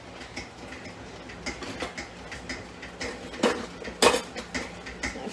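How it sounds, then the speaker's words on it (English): A metal spoon stirs cranberry juice in a cooking pot, scraping and clinking against the sides in an uneven rhythm, with a few sharper knocks near the end, close by and with no voices. "So I'm going to give this a good stir."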